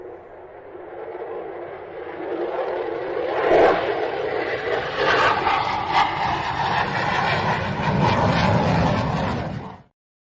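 A short aircraft flyby used as a podcast intro, a continuous roaring engine wash that swells around the middle and stays loud before cutting off abruptly at the end, with no talking.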